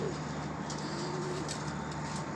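Pigeons coo softly and low under a constant background hiss, with a few faint bird calls breaking through now and then.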